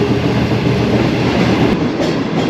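A Green Line passenger train rolls slowly through Ghotki railway station in Sindh, a loud, steady rumble of wheels and carriages with faint rhythmic clatter, heard from on board.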